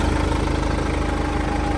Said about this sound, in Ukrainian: Двигун робить добре